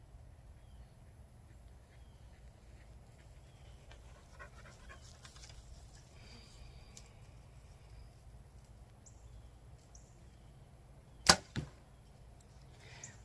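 An arrow fletched with Silent Night vanes is shot and strikes a target about 20 yards off, giving one loud sharp impact followed by a quick second knock against quiet outdoor background hiss.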